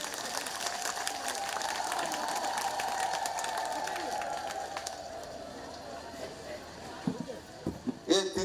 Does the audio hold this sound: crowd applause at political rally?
yes